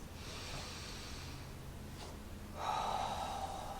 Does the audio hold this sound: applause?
no